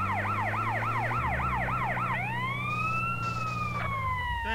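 Ambulance siren in GTA San Andreas wails loudly in repeated rising-and-falling sweeps over a low engine drone, then shifts into one long gliding tone that rises and slowly falls, with no talking.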